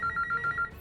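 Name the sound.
telephone ringing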